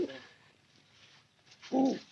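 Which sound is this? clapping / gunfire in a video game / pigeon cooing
pigeon cooing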